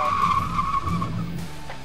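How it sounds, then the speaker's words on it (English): An Audi RS3 brakes hard in an emergency stop, its tires skidding with a loud, sustained squeal over road and engine noise that eases slightly toward the end. "Now we're going to do an emergency braking,"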